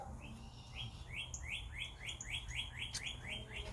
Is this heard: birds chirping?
yes